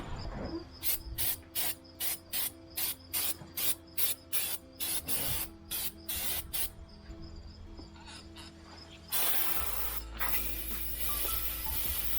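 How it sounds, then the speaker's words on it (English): An aerosol can sprays oil onto the brakes of a Ford Fusion during a brake and rotor change, in about a dozen short hissing bursts, then one long continuous hiss, close up over a faint steady hum. "Don't forget to spray tons of oil on there"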